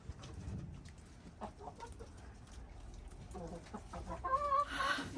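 Chickens cluck and murmur around a coop in a snowy yard. The calls are soft and intermittent, with a louder burst of clucking near the end and faint background noise.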